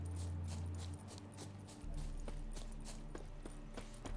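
Horse hooves clip-clop in a steady, quick rhythm as a mount is ridden in the video game The Witcher 3, a quiet run of evenly spaced thuds over a low background hum.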